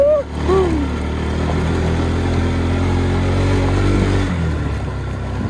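A motorbike engine idles and runs steadily near by, a constant low hum that cuts off abruptly toward the end, with brief outdoor sounds at the start.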